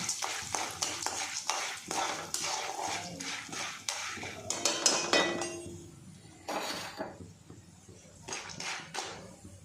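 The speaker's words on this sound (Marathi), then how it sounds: "आणि हे टाकून द्या पॉपकॉर्न, त्याला असे हलवून घ्या, 5 मिनिटं हलवा" Popcorn kernels rattle and clink against a metal pan as they are shaken on the stove, a dense run of sharp, close taps and scrapes with brief pauses and no talking.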